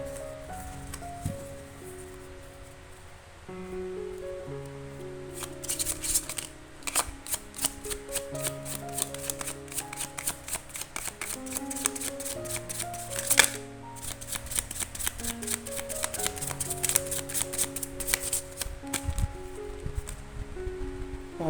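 Tarot cards shuffled and then dealt out one by one, a dense papery riffling and flicking that goes on for the whole stretch over soft background music.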